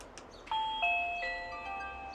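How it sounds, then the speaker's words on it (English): A Reolink PoE electronic doorbell chime rings out in a few clear, sustained tones that overlap and slowly fade, heard close and alone over faint room hiss. "And then if we press the doorbell"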